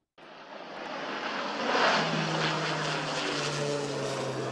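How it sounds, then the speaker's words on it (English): A firefighting air tanker aircraft drones overhead at a wildfire, rising quickly to a loud steady roar with a low engine hum that holds throughout. "There still are a couple of air tankers in the air, a couple of helicopters"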